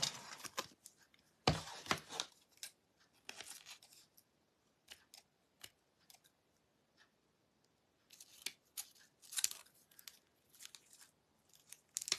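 Scissors snip through paper while cutting out a decorative Easter tag, giving close, crisp cuts in irregular bursts with quiet pauses between runs.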